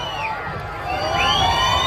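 A live stage show audience cheers and claps in a broad, steady crowd roar that swells slightly toward the end, with some shouts rising over the noise.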